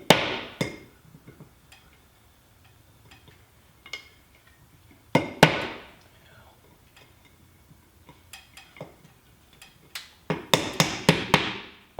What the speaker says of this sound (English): I then mark this by tapping a quarter-inch drill bit